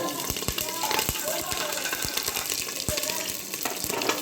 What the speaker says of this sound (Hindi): तेल गर्म हो गया है, इसमें सब खड़ा मसाला डाल दूँगी और हरी मिर्च